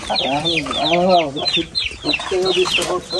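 A purebred Korean rooster clucks in a run of close, loud, warbling calls, with a few shorter clucks toward the end and faint background noise.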